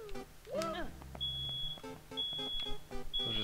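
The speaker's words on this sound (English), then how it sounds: "Smoke detector is going off." In the Super Mario 74 video game, a smoke detector gives three thin, high, steady beeps at regular intervals, mixed with other bouncy in-game sound effects, all fairly quiet.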